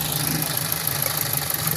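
A car engine idles roughly with one ignition coil pulled, misfiring and giving a steady, uneven throbbing hum with a vibrating knock close by.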